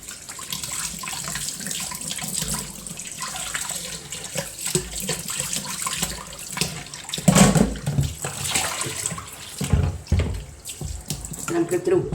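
Fish being washed with salt under a running kitchen tap, water splashing steadily into a sink with occasional louder rinsing bursts.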